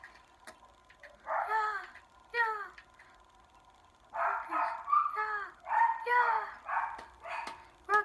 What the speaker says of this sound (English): my dog's barking like crazy